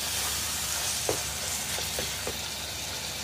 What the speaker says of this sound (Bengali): টমেটো কুচিগুলো দিয়ে আমি ভালো করে নেড়ে চেড়ে কষিয়ে দিচ্ছি।